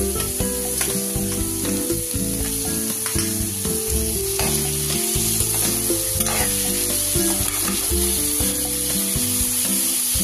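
Tomatoes frying in a pan while being stirred, giving a steady close sizzle with scraping strokes throughout and no talk.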